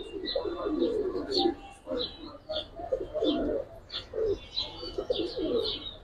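Bronze-coloured high-flyer pigeons coo in low, throaty bursts that repeat through the clip, close by, with higher chirps mixed in and people talking over them.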